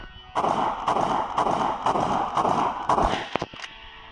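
Video game gunfire: repeated heavy gunshots boom in a steady rhythm, several blasts close together, followed by a few sharper cracks at the end.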